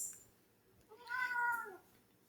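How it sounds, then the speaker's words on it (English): A house cat gives a single drawn-out meow, close and fairly quiet, rising then falling over about half a second against a hushed room. "that was my kitty cat"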